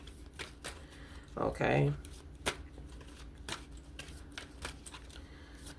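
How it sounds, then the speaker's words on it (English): Tarot cards are shuffled in one quick riffling burst of flicking card noise lasting under a second, with soft taps and handling around it and a quiet voice speaking. "we're going to start out with straight tarot for you"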